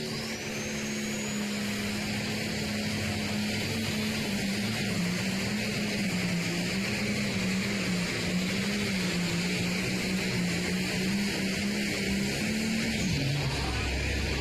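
Limited Pro Stock tractor pulling at a Hillsboro, Wisconsin tractor pull: an International tractor's engine drones loud and steady with a wavering pitch throughout, fading at the end, with no talk over it.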